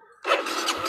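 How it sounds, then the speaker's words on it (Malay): A motorcycle engine starts after a brief quiet moment, catching with a loud rising whir that settles into a steady running drone, close by and alone without talk. "Nak start motor lah susah."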